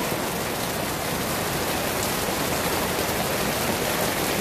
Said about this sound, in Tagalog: Raining, guys.